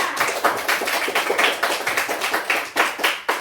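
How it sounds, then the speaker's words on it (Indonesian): A small classroom group claps for group 2 in a quick, even rhythm of distinct hand claps, moderately loud and close, with no talking over it. "Tepuk tangan untuk kelompok 2."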